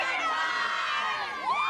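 Sorority girls cheering at a Cal Golden Bears college football game, a loud, high-pitched chorus of shrieks and whoops held steady throughout, with a rising swell of cheers near the end.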